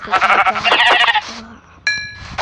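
Sheep bleat loudly in repeated wavering calls on a farm, a brief pause, then a sharper bleat near the microphone, with faint background talk.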